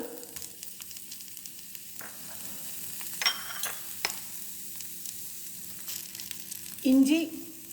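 Onion and ginger fry in oil for mutton chops gravy, giving a continuous close sizzle. A few faint utensil taps sound partway through, and a louder burst of frying rises near the end.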